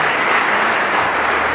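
Steady, dense applause from a wedding audience greets the bride and groom at a Vietnamese traditional wedding, loud and continuous with no voices over it.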